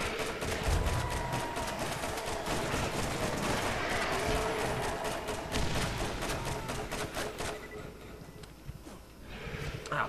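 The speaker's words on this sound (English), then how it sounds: "All of the grenades." Grenade blasts and gunfire in the Borderlands video game, a dense continuous barrage of bursts and booms for most of the stretch, thinning toward the end.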